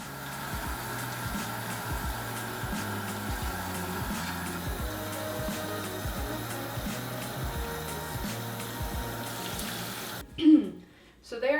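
Wool rinsed of soapy water ahead of a walnut dye bath, with water running steadily and evenly for about ten seconds, then breaking off into a few closer splashes and handling noises.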